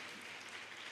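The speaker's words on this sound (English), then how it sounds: "A big round of applause from the girls" Audience applause at an inter-collegiate expo on menstrual health, a short burst of dense, steady clapping from a crowd of girls, with no voices over it.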